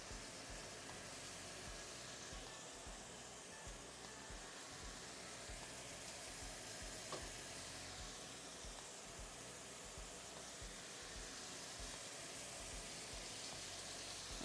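Soft, steady sizzle and hiss of salmon searing skin side down in hot olive oil in a pan, continuous and even without any talking.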